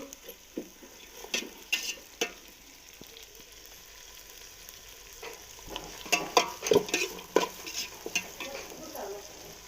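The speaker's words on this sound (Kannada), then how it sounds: "ಈರುಳ್ಳಿ ಹಾಕಿ ಚೆನ್ನಾಗಿ ಫ್ರೈ ಮಾಡಬೇಕು" Onion frying in a pan for drumstick pulao: a low sizzle under irregular metal spoon scrapes and clinks that grow busier and louder toward the end.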